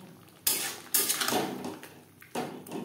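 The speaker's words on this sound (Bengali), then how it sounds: "2-3 মিনিট মশলার সাথে পটল নাড়াচাড়া করে নেব" Pointed gourd tossed with spices in a metal pan, giving three sharp scraping, clattering bursts of utensil against pan with brief pauses between, close and fairly loud.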